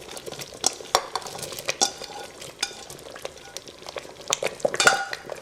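Tofu being stirred into a pot of vegan Filipino rice porridge, with repeated clinks and scrapes of a utensil against the pot over a soft cooking sizzle, close by and without talk.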